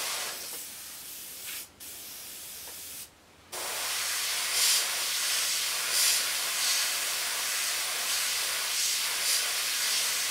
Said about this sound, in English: I like to try and keep the airbrush almost at 90 degree angle to the paint, to the panel